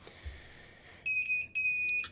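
The buzzer on a Pixie CW ham radio transceiver kit sounds two steady high-pitched tones, each about half a second long, separated by a brief gap, clear and close.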